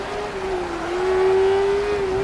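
A rally car engine from DiRT Rally 2.0 drones loudly and steadily under load, holding a sustained revving tone close up without break.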